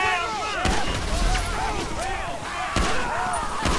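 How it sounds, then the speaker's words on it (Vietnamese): Gunfire from the video game GTA 5, heard as repeated sharp cracks with ringing, bouncing ricochet-like tails, loud and close throughout, without talk over it. "Bắn kiểu này đây."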